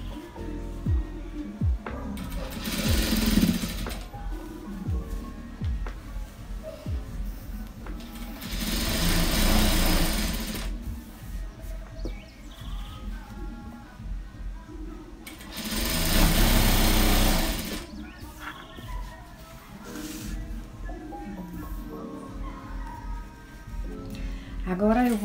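A sewing machine stitches a hem on a cloth diaper in bursts of loud, fast whirring separated by pauses, while someone talks in Portuguese between and over the runs.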